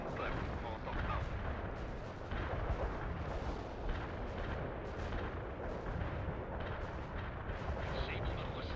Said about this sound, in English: Artillery strike completed